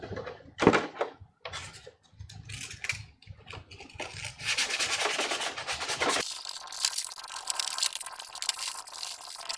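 Hand sanding and polishing body filler on a Shoretrooper/Deathtrooper armor chest piece with 220 grit sandpaper: scattered knocks and scrapes at first, then steady close abrasive rubbing for several seconds.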